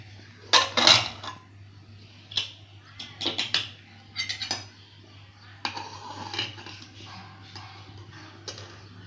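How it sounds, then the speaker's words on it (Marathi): Pressure cooker being opened in a home kitchen, a few close metallic clanks and clatters of the lid and pot in short bursts, over a low steady hum. "कुकर उघडून बघूया।"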